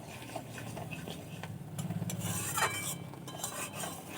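Taro stolons cook in a pan while a utensil stirs them, giving soft scraping and clinking strokes over a low bubbling sizzle, close and quiet.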